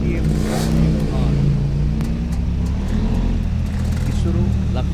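A KTM car revs hard at a hill climb race, its engine roaring and climbing in pitch nearby, with a commentator's voice talking over it throughout.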